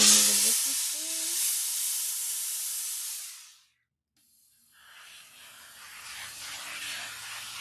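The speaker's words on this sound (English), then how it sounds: "And then we're going to steam this because we want it to be really flat." A steam iron hisses in a long, loud burst onto fabric being pressed flat for a sewing project, cuts out briefly, then resumes with a softer, steadier hiss; a few faint low tones sit beneath at the start.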